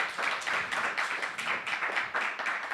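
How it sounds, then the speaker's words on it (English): A steady round of applause from an audience for a panel after a Q&A, dense overlapping claps rising and falling slightly without a break. "let's give a round of applause for the panel"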